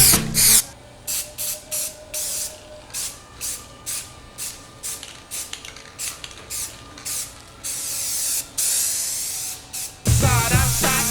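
Short bursts of hissing spray while a Ford Thunderbird masked in plastic is spray painted, about a dozen evenly spaced pulses close by, ending with a longer sustained burst.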